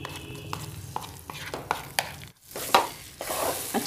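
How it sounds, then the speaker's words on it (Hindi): A spoon stirs and scrapes moong dal as it roasts in spices in a pan, a steady run of close scraping and rustling with a brief pause midway and no talk. "अच्छी तरीके से चलाते हुए भून लेंगे पहले मूंग दाल को"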